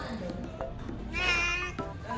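A cat kept at an office gives a drawn-out meow in the middle, close by, with chatter and voices around it.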